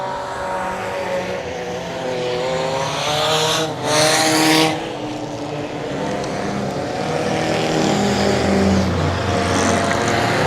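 Race cars at Willow Springs speedway during the So-Cal Enduro 300, with loud, droning engines rising and falling in pitch and one car roaring past close by midway, among other engines circling.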